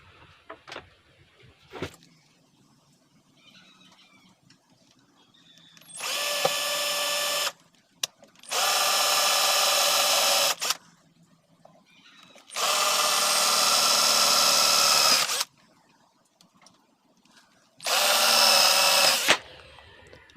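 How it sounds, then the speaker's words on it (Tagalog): Four separate bursts from a power drill boring a screw hole, each whining for about one to three seconds with quiet pauses and faint handling between, close by. "Okay, barinahan natin mga boss."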